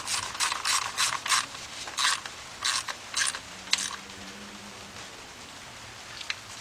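A ratchet tightens the timing cover bolts on a Chrysler engine in short bursts of rapid, crisp clicking, close by, then settles into quiet background noise.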